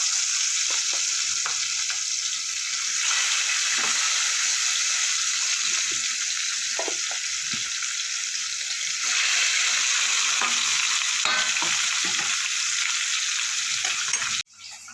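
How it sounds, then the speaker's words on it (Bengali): Pieces of rohu fish fry in hot oil with a loud, constant crackling sizzle and occasional pops, lasting throughout before a sudden drop at the end. "মাছগুলো আমি ভেজে নেব।"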